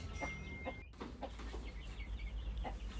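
A hen, rooster and chicks cluck softly in a busy farmyard, with brief chick chirps over a steady low background rumble.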